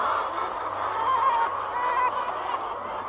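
Hens in a huge battery egg farm produce a dense, continuous din of clucking and squawking, a loud, close chorus that fills the space without pause.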